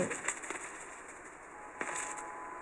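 In a Spider-Man video game, a flock of birds takes off together, with faint bursts of wing flapping and soft cooing against a quiet hum.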